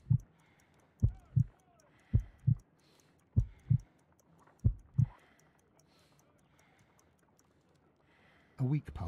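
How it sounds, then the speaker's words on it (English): Slow heartbeat in Sherlock Holmes: Crimes and Punishments, a weak pulse of roughly five muffled lub-dub double thumps at a steady pace, followed by a quiet gap and a brief burst of voice at the end. "I need to concentrate and count the heartbeats."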